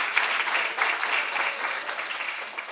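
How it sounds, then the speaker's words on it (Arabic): Steady audience applause fills a children's concert hall, dense clapping that continues throughout without a break, fairly close and even in loudness. "تصفيق لعمو حسان"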